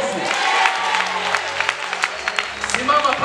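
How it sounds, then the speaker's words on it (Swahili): Church congregation clapping at a Pentecostal service, scattered claps rising and falling for about three seconds while a voice and organ-like tones carry on underneath. "Pigia Yesu makofi."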